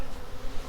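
Honey bees buzz steadily around a honey extractor and its filters, a close, continuous droning hum with slight swells in loudness and no voices.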